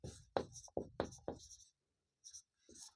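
Pen writing on paper up close, a quick series of short scratchy strokes followed by a pause and two more brief strokes in a quiet room.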